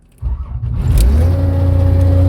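A John Deere 955 tractor engine cranks on the starter and catches, then settles into a loud, steady close-up idle with a deep, even drone.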